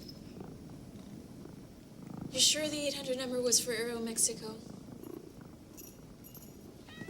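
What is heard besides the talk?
cat purring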